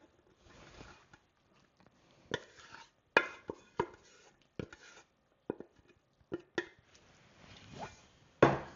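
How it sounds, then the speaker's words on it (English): A spoon stirring a thick, creamy sauce into breadcrumbs for Thanksgiving stuffing balls, heard as scattered soft wet scrapes and clinks against a bowl, fairly quiet and intermittent with pauses between strokes. "You want to add in a little bit and then stir."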